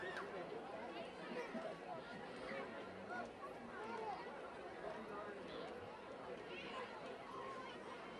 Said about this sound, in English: Pretty nice crowd here at the Corral on a rainy Friday night